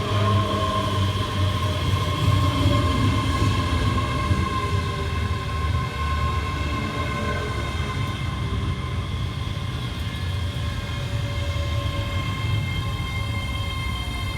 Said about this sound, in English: departed in the background will be 385046 and 385022, working the 1804 East Scotrail service from Glasgow Central through to Lanark